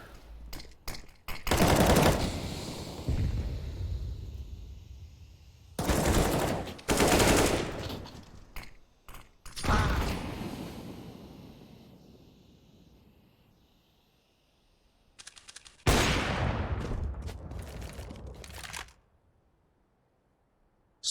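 Automatic rifle fire in CS:GO crackles in several sharp, loud bursts separated by quiet gaps, with a short single volley near the middle and a longer spray toward the end.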